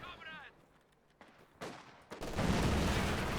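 Gunfire crackles through a video game battle in crossfire, starting faintly after a brief voice, then swelling into a loud, dense, continuous volley that fills the second half.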